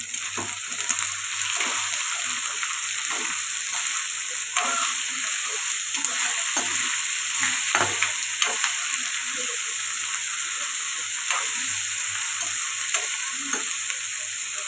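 Taro curry seasoned with salt fries steadily in a pan, a constant close sizzle broken by frequent scraping strokes of a spoon stirring through the pieces.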